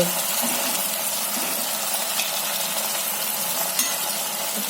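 A pot of gram-flour curry boils steadily, giving a continuous bubbling hiss with no pauses or voices over it.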